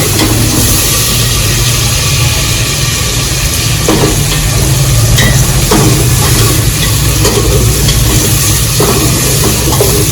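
Meat dropped into browned onions for chicken biryani sizzles loudly and steadily in a hot pan, a dense continuous frying hiss with occasional stirring scrapes.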